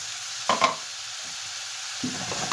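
Hand-rolled minced-meat meatballs for a Moroccan vegetable tagine dropped into hot oil over high heat, a constant close sizzle broken by two or three brief splashy bursts as they land, no voices.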